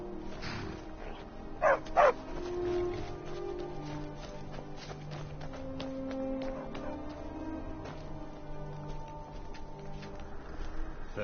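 Dogs barking in Markarth in the Skyrim video game, two short bursts near the start over a busy game ambience of footsteps and city noise, then fading into the background.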